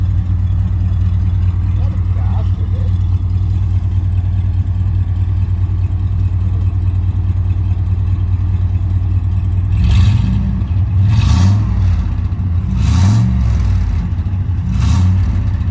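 A car engine with a possible turbo fault smokes on throttle as it drones steadily at idle. Toward the end it revs up several times in rising and falling pulls, and voices can be heard under the engine.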